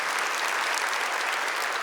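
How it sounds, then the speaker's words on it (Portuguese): Dense, steady applause from a church congregation during a prayer gathering, loud and continuous throughout the short stretch with no pauses. "Aplauda o Senhor"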